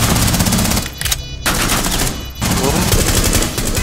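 Gunfire shooting through a wall in the tactical shooter Rainbow Six Siege, loud rapid automatic bursts with dense crackling shots, briefly pausing twice before resuming, with a voice faintly underneath.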